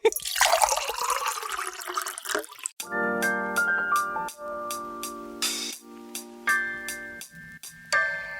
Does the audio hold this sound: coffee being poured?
yes